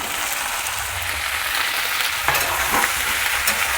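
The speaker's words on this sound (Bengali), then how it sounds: "এইগুলোকেও আদা আদা করে ভেজে নেব" Onion and capsicum fry in oil for chilli soybean, a continuous close sizzle with a few stirring scrapes and light knocks in the pan.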